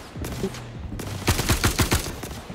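A squad firing together in the Star Citizen video game: a rapid volley of about six sharp, close gunshots in quick succession, preceded by a few quieter shots.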